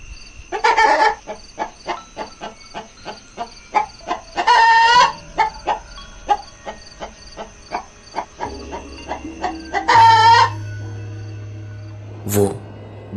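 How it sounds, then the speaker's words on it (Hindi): Rooster crowing at night outside a house courtyard, three loud drawn-out crows spread across the scene, with a steady run of rhythmic chirping or croaking insects and frogs pulsing between them, and a faint low hum underneath. "मुर्गे की आवाज कानों में पड़ते ही आशाराम की आंखें खुल गई।"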